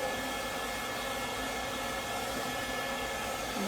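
A DUZ pet dryer blows a steady, loud broadband rush of air while a calm dog is dried, the continuous whoosh staying even and close throughout with no talking.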